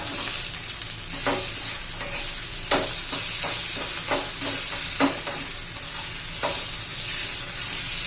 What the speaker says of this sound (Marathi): आता याच्यामध्ये आपण कोथिंबीर घालूया तिथे आता मिनिट आपण हलवून घेऊया